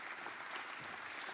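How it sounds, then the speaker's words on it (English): Faint, steady applause from an audience at the Grace College Gordon Center launch event, a soft continuous patter of many hands with no voices over it. "Let's give a round of applause for him."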